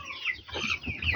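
Laying hens in a coop room with nesting boxes cluck in a quick, busy run of close, clear calls, with no talking over them.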